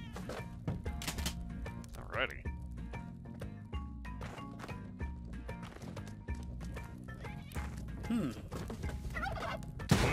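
Turkeys in the video game Spelunky 2 gobble in short bursts over busy game effects such as clip-clopping hooves and music, faint overall, with a voice talking now and then.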